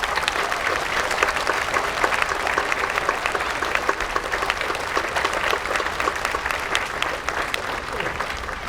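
An audience at an outdoor concert applauds a singer with dense, sustained clapping that stays loud and even throughout, with faint crowd murmur mixed in.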